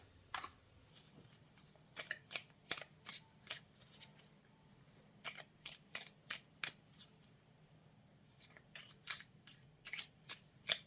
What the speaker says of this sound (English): shuffle my cards and pull